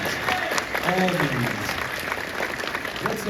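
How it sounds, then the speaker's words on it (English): Convention crowd at MegaCon Orlando applauds for Kevin Conroy during a panel, a steady clapping wash running underneath a voice talking. "Please interrupt me with a clap for Kevin Conroy."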